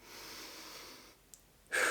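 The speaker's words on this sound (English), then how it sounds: "start deep breathing exercises as I did before. So in through the nose, out through the mouth." A long, slow breath drawn in through the nose during a meditation exercise, then a pause, and a stronger breath pushed out through the mouth, close and alone.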